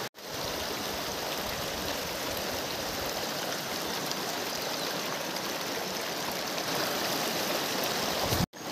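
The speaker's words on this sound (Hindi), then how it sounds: "जो हमारा गदेरा था ना बारिश की वजह से उसका पानी थोड़ा बढ़ चुका है" A small mountain stream swollen after rain rushes steadily and close up, a continuous dense wash of flowing water with no voices.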